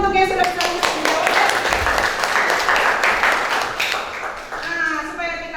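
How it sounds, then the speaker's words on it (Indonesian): Students in an Indonesian classroom clap together at the teacher's call, a dense burst of close hand claps with faint voices mixed in, tapering slightly near the end. "Tepuk tangan untuk yang sudah bisa menjawab."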